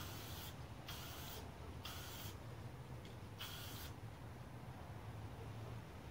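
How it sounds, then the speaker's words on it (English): Spray paint hissing from an aerosol can in quick light coats, four or five short bursts about half a second each with brief pauses between, faint and close, over a low background rumble. "Just quick light coats. Try to stay out of the way of the fumes and the paint as it flies off."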